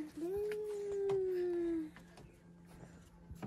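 A small, cute puppy, in Nepal, gives one long, drawn-out whine that slides slowly downward in pitch for nearly two seconds, close and clear, then fades into quiet room noise with faint movement.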